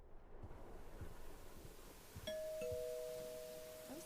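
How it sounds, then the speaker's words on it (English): A two-tone front doorbell chimes once inside a house in the horror game Suffer the Night, clear and ringing out over a steady background of storm wind and rain. "That was the front doorbell."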